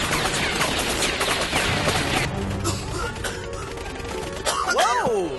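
Gunfire erupts during an animated battle in an English dub, with rapid bursts of shots rattling over the chaos, followed by a shrill swooping sound near the end.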